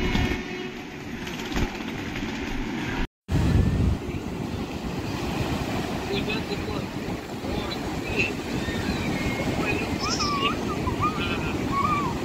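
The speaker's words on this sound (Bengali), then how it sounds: "এখানে ঢেউয়ের কিন্তু বেশ ভালো জোর আছে" Ocean waves break on the beach at Gopalpur, Odisha, in a steady, loud surf roar mixed with wind buffeting the microphone, with one brief dropout near the start.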